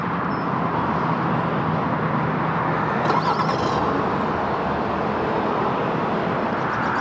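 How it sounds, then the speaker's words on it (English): A 2024 GMC Acadia Denali AWD started by remote from the key fob, its engine settling into a steady, loud idle heard close outside the vehicle, with a brief higher whir partway through. "double press the remote start button on the key fob."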